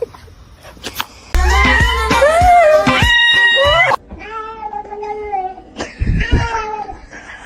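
Cats meow loudly and close, with several drawn-out, wavering calls and whiny cries in a row, some overlapping, with short quiet gaps between them.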